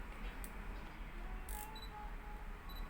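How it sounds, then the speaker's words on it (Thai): A single-lens reflex camera gives quick beeps as its shutter button is half-pressed for metering, a couple of short bright chirps over quiet handling noise. "การวัดแสงก็คือกดลงไปครึ่งหนึ่งให้ไฟ ให้ไฟในช่อง อันนี้มันจะดังติดๆนะครับ"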